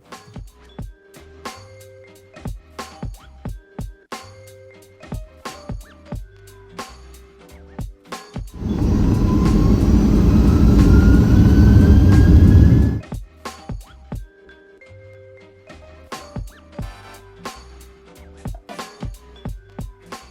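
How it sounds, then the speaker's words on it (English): An airliner taxis and takes off from Chicago, its engines rising into a loud, steady roar with a climbing whine for about four seconds, set between stretches of rhythmic music. "it wasn't too long before we were taxiing out and taking off into the murky skies of Chicago"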